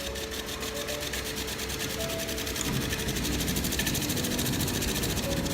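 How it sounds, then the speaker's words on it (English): Hotel room air conditioning unit in India running loudly, a constant close roar with a rapid rattling pulse and a low droning hum throughout. "we do have like the loudest AC unit in town"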